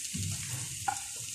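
Beef for bistek tagalog sizzles in a frying pan with onions. A steady, close frying hiss carries a short scrape or clink partway through.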